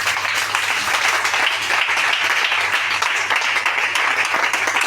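A church congregation applauds during a French-language worship service, producing dense, continuous clapping that fills the room at a steady level throughout.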